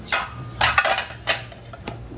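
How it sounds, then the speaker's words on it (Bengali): Fish pieces dropped into a clay cooking pot while making a sour fish dish, giving several close, clattering knocks and scrapes of pot and utensil in short bursts, with no talking. "এখানে একটু মাছ দিয়ে দিব মাছটা দিয়ে দিই"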